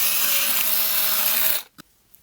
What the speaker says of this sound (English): Let's just go with an 8 millimeter drill.